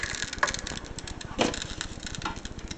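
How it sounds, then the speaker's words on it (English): Water sizzles and crackles on the bottom of a pan while white chicken chili cooks, a steady close patter of tiny pops with a few louder snaps, no talk. "That noise is the water on the bottom of the pan."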